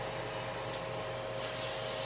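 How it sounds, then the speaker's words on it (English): Olive oil cooking spray hissing onto aluminum foil in a kitchen, a steady close spray with a louder burst near the end over a constant background hum. "Got some olive oil cooking spray."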